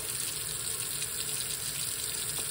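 Water runs steadily from a tap while a sugar scrub is rinsed, a constant close gushing hiss with no voices over it.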